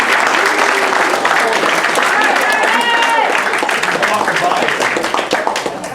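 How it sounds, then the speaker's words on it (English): A crowd breaks into loud applause that fills the space with dense clapping, with voices and cheers mixed in, slowly thinning toward the end. "I want everyone to give yourself a round of applause"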